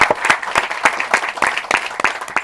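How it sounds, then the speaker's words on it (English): Comedy club crowd clapping in a round of applause, dense and lively with distinct claps standing out from the wash, loud and close throughout with no talking over it. "Give yourselves a round of applause."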